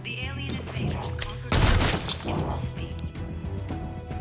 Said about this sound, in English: Fire a weapon!